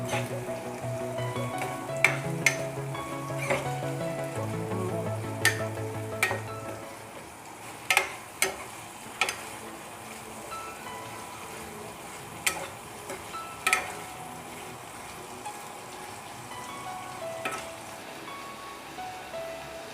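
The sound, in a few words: catfish pieces frying and being stirred in a pan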